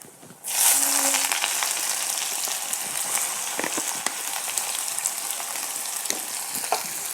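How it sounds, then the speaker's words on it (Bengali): Chopped onion hits hot oil already tempered with cardamom, cinnamon and whole cumin, setting off a loud, steady, close sizzle that starts abruptly and crackles on without pause. "পেঁয়াজটা লাল করে ভেজে নেব।"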